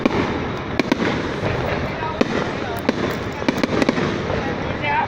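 Fireworks launched for a public holiday display by a bridge crowd, with sharp pops and bangs scattered through a dense, constant roar of crowd noise and chatter, several bursts standing out clearly above the din.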